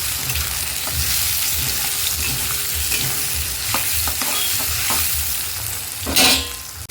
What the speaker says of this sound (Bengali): টমেটো কুচি দিয়ে একটুখানি ভেজে নিয়ে তারপরে মশলাটা দিয়ে দেবো।